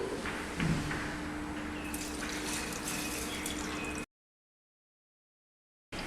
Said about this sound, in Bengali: এবার আমি এতে অ্যাড করছি দুধ